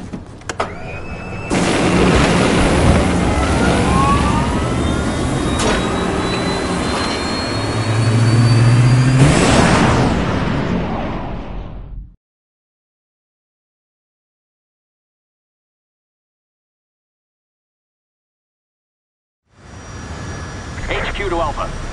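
In Resident Evil 6, an aircraft jet engine spools up with a loud, rising whine and roar close by. The sound cuts to silence for several seconds, then the engine noise returns.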